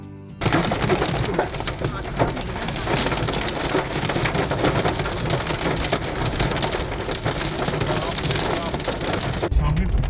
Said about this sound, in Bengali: কিছুক্ষণ পরে পুরুলিয়ায় শুরু হয়ে গেল ঝমঝম করে বৃষ্টি। আর শুধু বৃষ্টি নয়, তার সাথে পড়া শুরু করলো শিল।